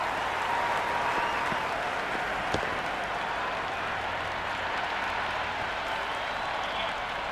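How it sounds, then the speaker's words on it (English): A large cricket stadium crowd at an IPL final roars and cheers continuously, a dense, steady wall of noise with scattered clapping, holding loud throughout. "Will you listen to that crowd? They are loving this."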